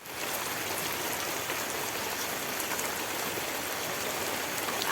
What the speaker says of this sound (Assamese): সৰু সৰু বৰষুণ পৰি আছে